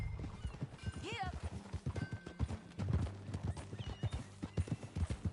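Horse riding in the video game Red Dead Redemption 2, rapid rhythmic hoofbeat clip-clop with a whinny near the start, close and continuous, with a voice talking briefly over it.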